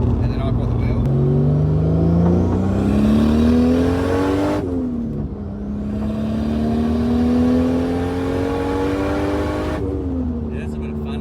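A Nissan S15 Silvia widebody with an RB25DET engine accelerates hard in two long pulls, its pitch climbing steadily with a sharp gear-change drop between them, loud and close with voices faintly under it.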